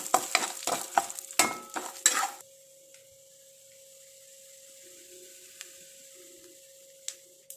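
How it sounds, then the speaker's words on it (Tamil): Mustard seeds, urad dal and chana dal fry in hot oil while a spoon stirs and scrapes the pan in several quick, close clatters, then a faint steady sizzle with a thin hum continues alone. "உளுந்தோட கடலைப்பருப்பு வச்சுக்கோங்க இல்லைங்களா கடலைப்பருப்பு போட்டுக்கலாம் நம்ம அப்படியே ஃப்ரை பண்ணிடலாம்"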